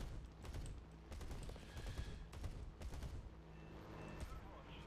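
Bf-109Z fighter cannons firing in the War Thunder game, sounding as repeated bursts of rapid gunfire over a steady engine drone, with several pauses between the volleys.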